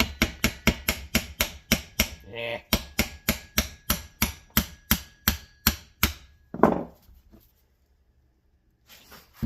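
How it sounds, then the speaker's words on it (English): Rapid, evenly spaced hammer taps on a limited-slip differential part for a turbo Integra, about two dozen sharp knocks in a steady rhythm, then a clunk and near silence. "I'm just gonna kind of tap it over with the hammer a little bit until she lines up"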